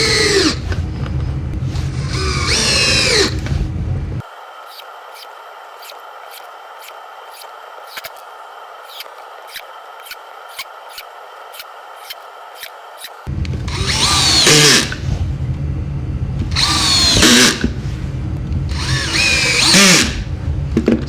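A Dewalt 20V cordless drill drives screws. Bursts of motor whine come between stretches of talking, and a long middle run of steady whirring is punctuated by regular clicks.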